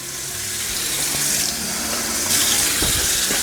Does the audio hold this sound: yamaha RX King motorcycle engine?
no